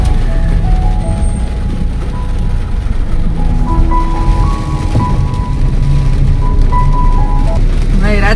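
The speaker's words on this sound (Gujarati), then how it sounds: "ભાઈ રાજકોટમાં વરસાદ તો બહુ સારો પડે છે" Rain heard from inside a car in Rajkot, a loud continuous drumming on the roof and windows with low rumble, while muffled voices and other cabin sounds sit underneath.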